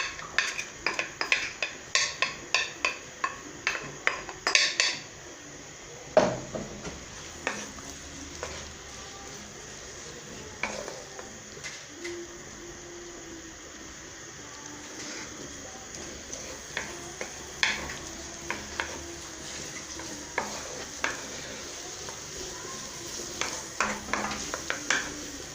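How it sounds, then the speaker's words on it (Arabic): Onion frying in oil in a pan, a low, steady sizzle under frequent irregular clicks and scrapes of a utensil against the pan, busier at the start and end. "هنا راح نبدا نقلي اولا البصل"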